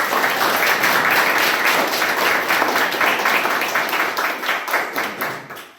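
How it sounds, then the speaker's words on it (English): A room full of people at a Toastmasters club meeting gives a round of applause, steady dense clapping that holds for several seconds and then thins out and fades toward the end. "Can you have a round of applause?"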